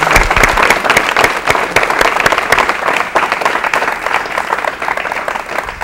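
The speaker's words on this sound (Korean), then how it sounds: "박수로 맞이해 주십시오." A 1984 Korean TV talk-show studio audience applauds to welcome a guest: loud, dense, steady clapping from many hands that holds for the whole stretch without pause.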